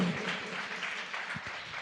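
A church congregation applauds in praise during a sermon, a short burst of dense, moderately loud clapping from many hands.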